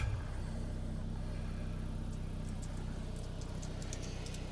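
A 2004 Volkswagen Beetle's engine idles steadily at a used car lot, a low continuous hum with no revving and no talk.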